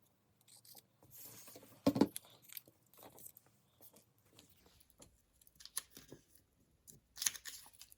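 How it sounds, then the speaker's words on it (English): Scissors cut through layers of pinned fabric with a paper pattern attached, giving soft, irregular snips and crunches in short bursts, with a louder cluster of cuts near the start and another near the end, quiet between. "I'm just going to carefully cut these pieces out"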